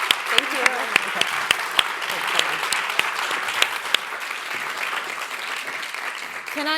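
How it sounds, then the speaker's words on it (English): Forum audience applauding a keynote speaker at a panel event, steady crowd clapping with sharp individual claps standing out early, then thinning toward the end; a brief voice is heard near the close. "Can you all give a round of applause for Rania?"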